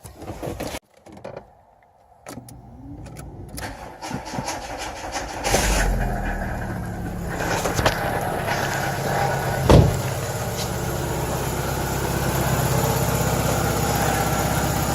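An old car engine turns over and catches, then settles into a steady, rough idle with rattling vibration, close by and loud.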